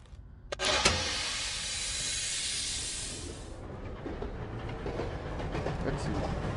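A moving train in the VR game Cave Digger: Riches rumbles steadily with a bright hiss that fades after a few seconds, leaving a low rolling clatter with faint rhythmic clicks.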